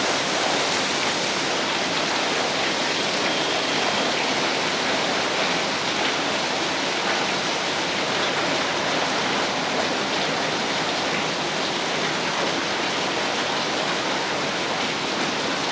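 Rough sea surf pounding the shore at Nemmeli during Cyclone Fengal, a continuous dense roar of crashing water and wind that stays loud and unbroken throughout, with no talking.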